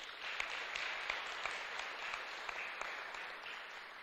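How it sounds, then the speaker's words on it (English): Faint, distant applause from a crowd, with a few sharper individual claps standing out against the soft patter. "please give them a round of applause."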